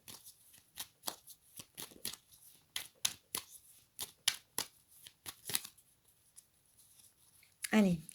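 A tarot deck is shuffled and cut close up, giving a quick run of crisp, papery riffles and snaps in an irregular rhythm, followed by a short voice at the very end.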